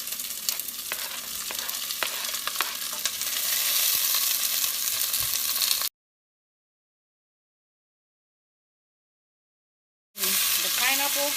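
Onions and peppers sizzling while frying in a pan for sweet and sour chicken, a steady close hiss with occasional stirring clatter, then a sudden gap of silence before the sizzle returns.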